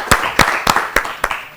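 Five sharp, evenly spaced claps ring out from a studio audience at a children's Easter quiz show, loud and close, with no talk over them.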